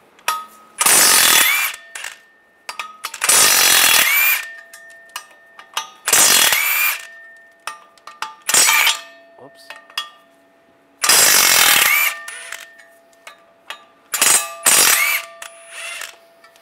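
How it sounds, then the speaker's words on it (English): Flywheel bolts are loosened with a 15 mm socket and ratchet on a 2007-2013 Chevy Silverado, with repeated bursts of rapid ratcheting clicks separated by pauses, plus lighter metallic taps and clunks in between. "Now we're gonna take the flywheel off. Use a 15 millimeter socket."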